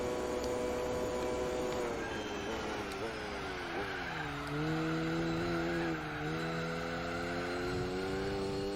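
A Volvo 240 with a stage 2 turbo kit, driven in Gran Turismo 4, revs high with a steady engine whine that climbs, dips and climbs again, under faint talk.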